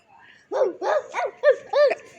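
A human voice imitates a small dog barking, giving five short, yappy woofs in quick succession, close and clear.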